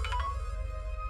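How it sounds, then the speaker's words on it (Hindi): A mobile phone ringtone plays as a brief, steady tonal melody at moderate volume, with low hum underneath and no voices. "क्योंकि मेरा फोन आ रहा है बेटा"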